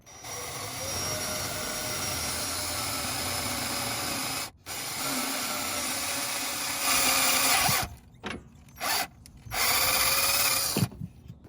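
A power drill whirs steadily for several seconds, then runs in short bursts and stops, close and loud against a faint background hum, while working on car alternator cable wiring.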